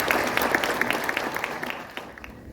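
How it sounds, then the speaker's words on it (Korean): Audience applause rises to welcome a speaker at an international academic conference honoring General Paik Sun-yup, a steady wash of many hands clapping that thins slightly toward the end. "큰 박수로 맞이해주시기 바랍니다"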